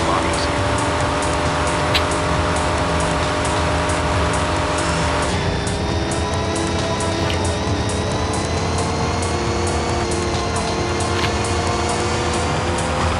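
Car driving in the Knight Rider (K2000) video game, a steady, continuous engine drone with a constant hum and faint high whine, loud and unbroken throughout with no pauses.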